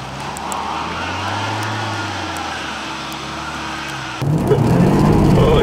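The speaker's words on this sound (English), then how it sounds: "An icy Jaguar burnout" A supercharged V6 2013 Jaguar XF revving hard in a burnout on ice, a steady droning engine roar with a low rising-and-falling rumble, then a sudden louder surge of engine noise and spinning tyres near the end.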